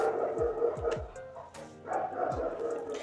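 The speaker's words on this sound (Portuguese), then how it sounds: "Ai, esse cachorro..." A dog barks several times in short, sharp woofs in the background, some close together and one more a moment later, under a man preaching in a sermon.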